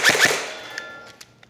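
Airsoft gun shots fired at head targets on a target system: two sharp close shots in quick succession, then a few fainter metallic pings as targets ring, no talk.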